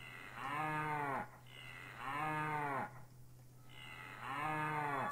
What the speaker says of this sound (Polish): 3 razy nacisnąłem krowę, dostałem achievement